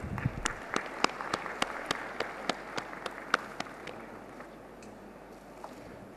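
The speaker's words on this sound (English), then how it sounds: "Please give him a big round of applause." Faint, sparse applause in a convention hall at a small-business summit: evenly spaced single claps that thin out and die away, with no talk over them.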